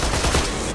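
Rapid machine gun fire from the video game Borderlands 2, a dense, continuous burst of shots that is loud and close, with no talk over it.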